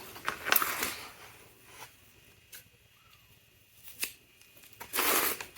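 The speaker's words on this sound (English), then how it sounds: "just take a handful, untangle it, hold it up, and snip" Scissors snip through handfuls of young onion seedlings in a few short, crisp cuts, separated by quiet pauses, with a louder rustle of leaves near the end.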